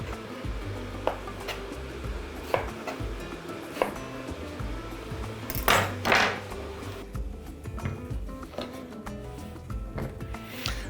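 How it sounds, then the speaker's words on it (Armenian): A knife cuts eggplant into cubes on a board, with scattered sharp taps at irregular intervals and a brief cluster of louder knocks midway, close and fairly quiet, with no talking. "Որից հետո կտրատում ենք սմբուկը խորանարդիկների"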